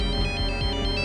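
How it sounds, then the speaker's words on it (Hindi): A phone ringtone plays in a dramatized crime-show scene, a steady, bright electronic ring with a repeating pulsing pattern, loud and close, with no talking over it. "उस रात जब मैं सो रहा था मेरे फोन की घंटी बजी थी।"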